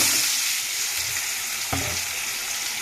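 Salted potatoes sizzle steadily in a frying pan, a close, continuous hiss with a brief clatter partway through.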